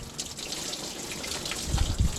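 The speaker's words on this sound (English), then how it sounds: "Here's the shower. Hot water comes there." Hot water runs steadily from a shower head, a continuous hissing spray with some splashing that grows heavier toward the end, heard up close with no voices.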